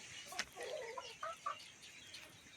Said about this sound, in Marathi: तर भरपूर कोंबड्या आहेत, पूर्ण गावठी कोंबड्या आहेत ह्या पहा.